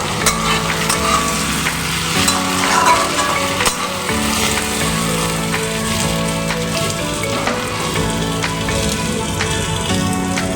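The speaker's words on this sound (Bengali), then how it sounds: "হালকা করে ভাজা হয়ে গেছে এবার আমি দিয়ে দেবো টমেটোর টুকরোগুলো" Tomato pieces dropped into hot oil in a pan while cooking a taro (gathi kochu) curry, frying with a steady, close crackling sizzle and occasional stirring clinks, no talk.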